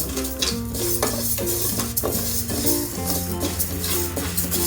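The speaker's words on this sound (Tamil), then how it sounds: "லைட்டாக அந்த ஒரு பாசி பருப்பு வறுத்து அந்த மனம் வந்துட்டால் போதும்" Moong dal dry-roasting in a pan for ven pongal on a low-to-medium flame, with a spatula scraping and stirring in steady repeated strokes and a faint rattle of lentils, set under background music.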